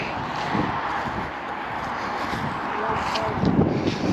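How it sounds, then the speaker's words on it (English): Strong wind buffets the microphone outdoors beside an old WWII ordnance depot and dismantled railway, a constant loud rumbling roar with a few stronger gusts near the end. "It might be really windy out here"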